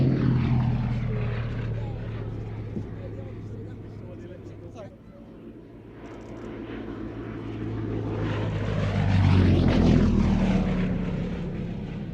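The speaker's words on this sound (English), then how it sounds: "Frank Chapman on the Gloster Gladiator 1" A Gloster Gladiator I biplane's radial piston engine drones steadily at an air show, swelling as it passes nearer and then fading, while a commentator talks over a loudspeaker.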